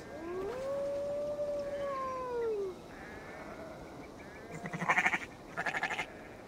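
A sheep in a video game bleats with a long wavering cry, followed by short bursts of louder, rougher sound near the end, all fairly faint and with no talking.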